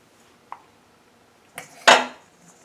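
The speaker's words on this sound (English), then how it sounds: "put the dandelions in the bowl" Dandelions are set into a kitchen bowl: a faint tap, then a short rattling clatter of the bowl against a hard surface, close by with no talking.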